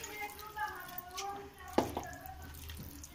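Water splashes and trickles into a cooking pan of chopped pieces close by, with a few clinks and some voices murmuring faintly underneath.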